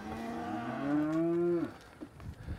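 Cattle heifers in a corral give one long, loud, close moo that rises and holds before cutting off, followed by faint shuffling and quieter low sounds.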